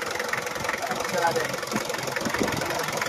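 A Jeep Grand Cherokee engine idles steadily with a rough, knocking rumble, close by, while a voice talks over it.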